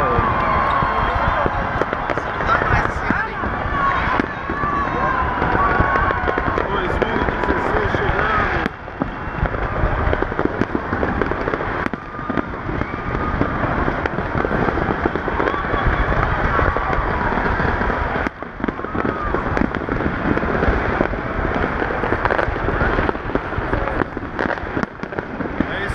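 New Year's Eve fireworks over Santos beach in Brazil, a dense continuous barrage of bangs and crackles with a crowd cheering and people talking nearby throughout.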